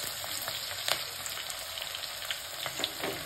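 Garlic sizzles in hot oil during tempering for a mixed vegetable fry, giving a steady close frying hiss with scattered crackles and small pops, some brief scraping stirs, and no voices.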